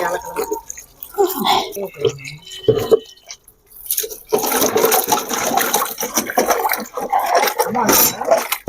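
Freshly harvested turmeric from a terrace garden being washed in water, with splashing, sloshing and squishing close by, broken up by pauses, and people talking throughout.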